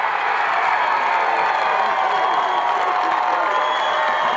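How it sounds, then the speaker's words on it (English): A crowd at a high school football game cheers loudly after a touchdown, a dense, unbroken roar of voices and clapping at close range. "And the crowd does go wild"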